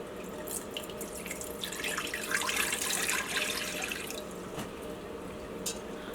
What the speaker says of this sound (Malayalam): ഇതിലേക്ക് വെള്ളം ചേർക്കുക.